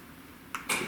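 Power door locks on a V8-swapped Chrysler Crossfire actuate: a soft click followed by a louder, sharper mechanical clunk, close by and otherwise quiet.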